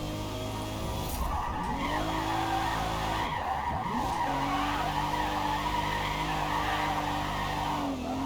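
Drifting car in the video game Forza Motorsport, its tires squealing continuously over a steady engine drone, with the pitch sweeping down and back up as the slide shifts.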